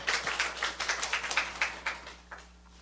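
Church congregation clapping together during a Sunday worship service, a quick run of roughly a dozen loud, fairly even claps that thins out and fades over the last half-second, with no talking over it.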